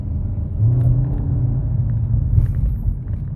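A 2015 Nissan Altima S engine hums low and steady, rising slightly as it picks up speed under light throttle, heard from inside the car.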